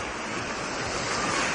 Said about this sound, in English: Wave, as in like big waves.